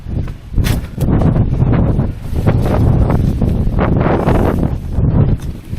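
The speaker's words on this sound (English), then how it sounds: "But definitely a very cool, cold, heavy wind is prevailing" Cold, heavy wind blowing around an outdoor site near Gibraltar Point, a loud, continuous buffeting roar that swells and dips in gusts throughout, with no voices.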